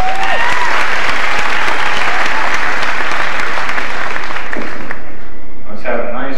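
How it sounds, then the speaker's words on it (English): An audience at a 1998 high school graduation in South Berwick, Maine, breaks into loud sustained applause that fills the room, fading near the end as a voice begins to speak. "Let's have a nice round of applause."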